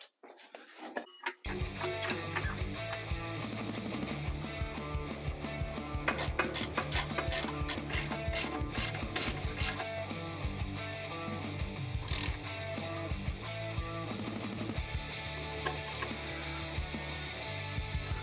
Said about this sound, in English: we got everything set up down here to finish putting on those bolts on the bottom